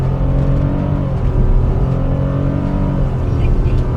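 A Suzuki Swift with a CVT gearbox accelerates hard from a two-pedal launch, giving a loud, steady engine drone that holds near constant pitch throughout with no talking.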